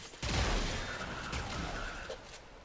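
Warframe gunfire shooting spores off a health scrubber, a loud, close, dense burst of rapid shots that starts abruptly and rattles on for over two seconds before trailing off.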